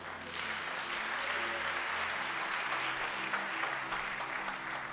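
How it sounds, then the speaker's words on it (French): A church congregation applauding during a worship service, a dense, steady wash of many hands clapping that carries on without a break from start to finish, fairly loud and filling the room. "Acclamez Jésus"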